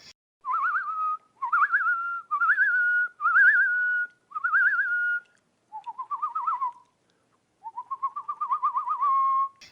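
A person whistles a short melodic tune in the Kasi tribe's whistle language, a series of clear rising-and-falling phrases repeated several times with brief pauses, alone and fairly close.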